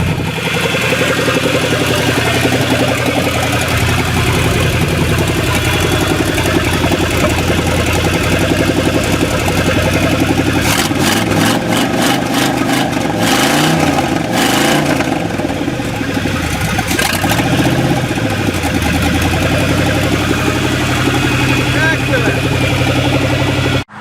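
An old vehicle engine, unused for four years, runs steadily after a cold start, a loud continuous mid-pitched rumble throughout with some throttle variation midway, while a person talks over it.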